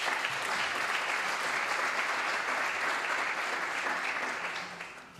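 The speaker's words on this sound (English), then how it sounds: "Can we please put a round of applause for them?" Audience clapping at the 2019 Western Cape Women's Parliament to thank the event team, a full, even round of applause that holds steady and then tapers off in the last second.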